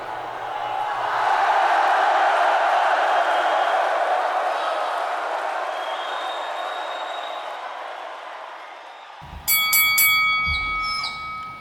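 A round bell at a character fight night rings sharply near the end, cutting through a long, loud crowd roar that fills most of the stretch.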